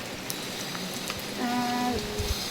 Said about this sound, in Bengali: এখন পড়ছে বৃষ্টি জোরে